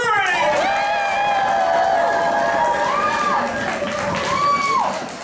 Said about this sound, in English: raise your voices, stomp your feet, and clap your hands